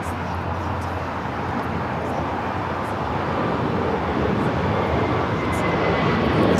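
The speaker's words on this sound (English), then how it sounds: "Let's go to the Emirates A380 Super, rolling down to 24 left." An Emirates Airbus A380 rolls down the runway at LAX with a steady, broad jet roar that slowly builds in loudness, close and continuous throughout.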